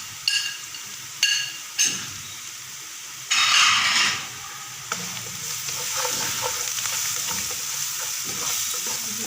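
Chicken frying in a pan for a smoky coal chicken salan as salt, coarse crushed red chilli and turmeric are stirred in: a few sharp spoon scrapes over a close, steady sizzle, with no voices.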